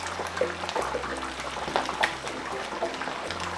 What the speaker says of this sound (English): Bubbling up here.